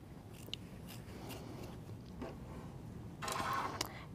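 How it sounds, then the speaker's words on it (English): Scissors snip through a fabric seam in a few short, crisp cuts spaced apart, close and fairly quiet, with a slightly longer rustling cut near the end. "so you'd want to use a good pair of scissors"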